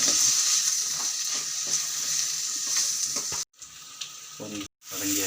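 Tomato and masala with salt sautéed in a pan for a medicinal kuzhambu: a steady close sizzle with rhythmic scraping stirs, briefly cut off twice before frying resumes.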